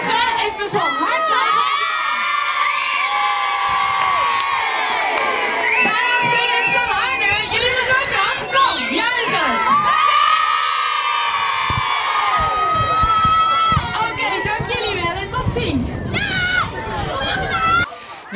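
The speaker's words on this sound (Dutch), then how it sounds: "Even nog een juichen, even zo hard." A crowd of children cheers and shouts loudly at the end of a march in Spakenburg, a dense sustained roar of high-pitched yelling and whoops that surges in two long waves.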